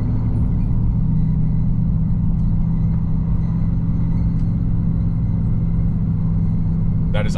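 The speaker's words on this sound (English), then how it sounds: "That is also my truck making that sound." A Chevrolet Silverado pickup makes a steady, loud low engine rumble that drones throughout, like sitting inside an idling truck, with a brief hiss near the end.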